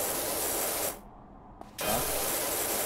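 A pressure washer jet hisses steadily against a playground tire in Power Wash, dropping out for under a second before the loud spray resumes.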